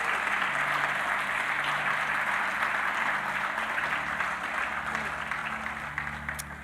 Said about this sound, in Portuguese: Você pode aplaudir a Deus pela palavra dele?